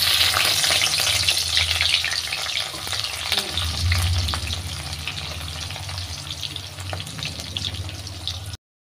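Onions frying in hot oil in a wok, a steady loud sizzle with crackling that runs for the whole stretch, close up and with no talking.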